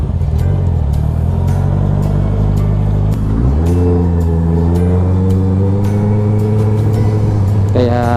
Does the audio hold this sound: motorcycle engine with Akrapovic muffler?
yes